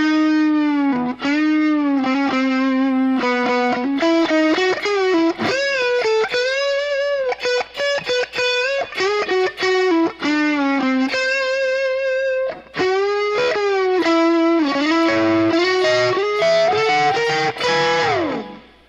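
An electric guitar plays the distorted pentatonic solo from The Cars' "Just What I Needed" slowly, bending and sliding between notes with quick phrases and brief pauses, loud and alone.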